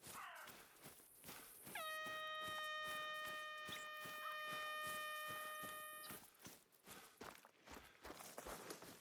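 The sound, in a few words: air horn app sound in Hunter: Call of the Wild video game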